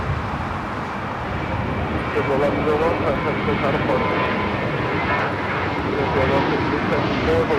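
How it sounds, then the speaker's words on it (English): Airbus A321 jet climbing away on takeoff from LAX, a steady broad engine roar holding close and loud throughout, with people talking over it. "This is one giant leap for Mint Kind taking off to Fort Lauderdale, flight 1100. It's the A321"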